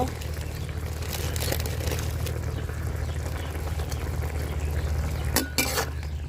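Spices with turmeric, chili powder and salt being stir-fried in a pan for a country chicken curry, a steady close sizzle with scraping and clinking of a utensil against the pot throughout.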